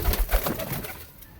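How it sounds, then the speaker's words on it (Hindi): A Lalchina pigeon with pale yellow eyes, offered for sale in Ludhiana, gives a close, loud, throaty coo that rolls in soft repeated pulses. "एक कबूतर है लालचीना,"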